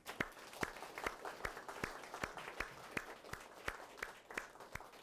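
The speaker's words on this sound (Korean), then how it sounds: "주님께 한번 감사의 박수를 올려드리겠습니다." A church congregation gives a brief round of applause, heard as faint, steady, rhythmic clapping of hands in a large room.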